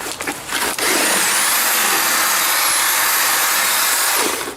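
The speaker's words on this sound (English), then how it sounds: "we'll give her a mix, and hopefully the drill holds up." A power drill with a mixing paddle churns concrete powder and water in a container, starting with a few short bursts and then running as a loud, steady, high-pitched whirring grind at close range.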